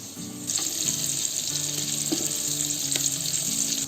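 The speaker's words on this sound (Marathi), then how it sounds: "ते थोडे तेलामध्ये बटरमध्ये ते आपण थोडंसं फ्राय करून घेऊया." Green chilies frying in oil and butter, a loud, steady close sizzle that starts abruptly and holds throughout, with a couple of light stirring taps and no voices.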